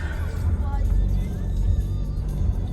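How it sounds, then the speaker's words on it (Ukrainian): A car rolls through a forest on a rough, bumpy road, its steady low engine rumble and jolting body noise filling the cabin continuously at close range. "Дорога тут, звісно, ой-ой-ой, але ми їдемо."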